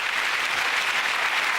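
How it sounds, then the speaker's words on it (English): Studio audience of a British comedy panel show applauding steadily, a dense even roar of clapping from a large crowd throughout. "a round of applause for all the people"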